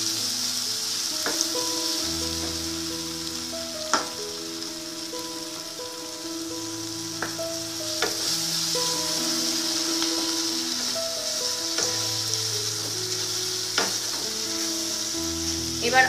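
Whole spices with raw jackfruit and prawns sizzle steadily in a hot pan, a continuous close frying hiss with a few sharp crackles and stirring knocks, while low tonal background music plays underneath.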